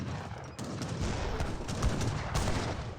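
Cannon and musket volleys from a strategy video game roar in a dense, continuous barrage of overlapping gunfire and booms, loud and sustained throughout.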